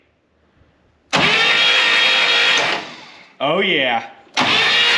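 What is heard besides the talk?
Buick Electra 225 engine cranking and starting after fire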